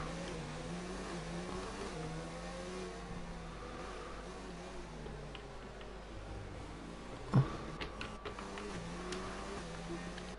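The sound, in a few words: race car engines revving in a racing video game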